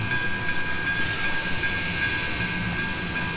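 Steady clanging of a Pennsylvania Railroad style bell on a PRR I1sa 2-10-0 steam locomotive in the Trainz 2019 game, sustained at an even level over continuous low mechanical rumble, with no talking.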